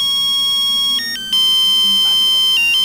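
An electronic phone ringtone plays a repeating melodic tone pattern, fairly loud and steady, with a short break in the middle.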